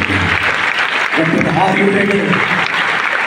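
Church congregation clapping at a Sunday worship service in Vijayawada, a steady, loud wash of many hands throughout, with the preacher's voice carrying over it.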